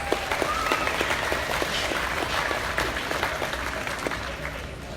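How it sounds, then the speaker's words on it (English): An audience at the Arizona National livestock show applauds for Madison, a dense, steady wash of clapping from a sizeable crowd that holds at an even level for the full stretch without fading. "Please give Madison a huge round of applause."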